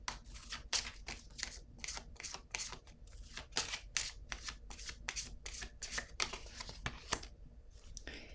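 Tarot cards shuffled and drawn in a steady series of crisp, riffling bursts, close and fairly quiet, with no talking over them.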